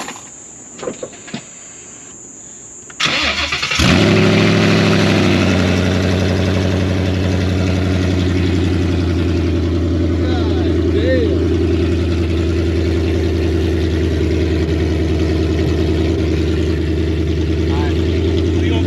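A Ford Mustang S550 fires up and settles into a loud, steady, rumbling idle close by, holding an even drone after a short burst of startup noise.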